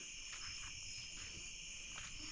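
Night insects, crickets, chirp in steady layered trills at a lakeside fishing spot, faint and continuous with no talk.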